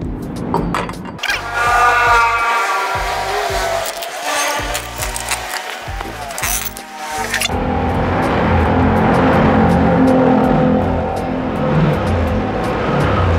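A Honda Beat scooter fitted with a custom Top Speed pulley and turned bowl revs loudly up close, first in rising and falling bursts, then settling into a sustained engine roar.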